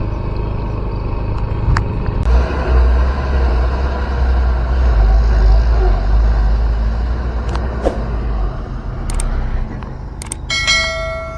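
Trucks hauling fill soil arrive at a toll-road bridge construction site, a loud continuous low engine rumble swelling in the middle, with a few sharp metallic clanks and a brief ringing tone near the end.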